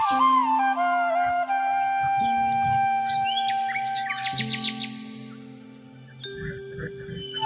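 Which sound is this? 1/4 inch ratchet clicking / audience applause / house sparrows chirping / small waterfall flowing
house sparrows chirping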